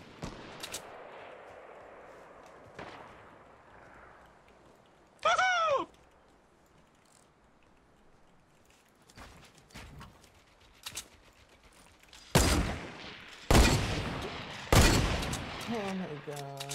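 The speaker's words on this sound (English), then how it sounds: "they're just randomly shooting in there" Scattered shots ring out in a Fortnite sniper shootout game mode, sharp bangs spaced irregularly and growing louder near the end, with faint talk and a chirpy game sound in between.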